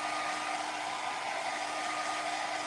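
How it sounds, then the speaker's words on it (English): Steady, close whir of a hair dryer blowing continuously over a freshly finished piece of furniture, alone with no talking and no change in pitch. "We're just having to use the hair dryer for expedience."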